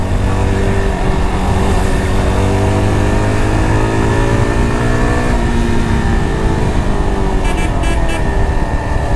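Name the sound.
Yezdi Adventure motorcycle engine revving while accelerating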